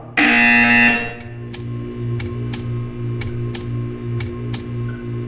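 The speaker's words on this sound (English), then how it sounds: "You will hear a buzzer." A harsh electronic buzzer blares loudly for about a second in the video game Portal 2, followed by a quieter rhythmic ticking pulse over a low hum.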